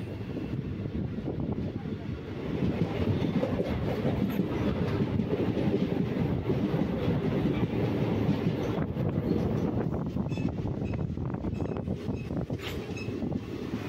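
Heard from on board, a passenger train runs toward Paravur railway station with a continuous rumbling roll. Faint clickety-clack from the wheels sits over the rumble, along with some wind noise, and the level rises slightly after a couple of seconds.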